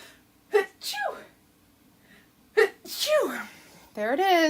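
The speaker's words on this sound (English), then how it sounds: "My daily live sneeze." A woman sneezes twice in quick succession while doing a paper crafting project, each sharp burst preceded by a quick inhale, the second sneeze louder and drawn out, followed by a brief vocal exclamation.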